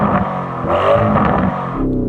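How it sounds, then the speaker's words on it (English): A 4-litre V8 engine revs up loud and close, a steady rumbling roar that swells in the middle and eases off near the end, with no talk over it. "rev up your 4-litre V8"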